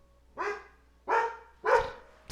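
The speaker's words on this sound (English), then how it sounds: "Now they're both barking." Dogs bark three times in separate, evenly spaced woofs, followed by the start of a fourth sound, moderately close and alone with no talk.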